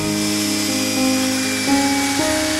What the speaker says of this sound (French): Je rectifie un peu les angles à la ponceuse avant.